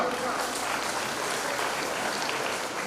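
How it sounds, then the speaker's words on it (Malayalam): Audience clapping at a school entrance ceremony, a steady dense wash of applause that holds at an even level throughout, with no clear talk over it. "കൈയടി കൊടുക്കാം."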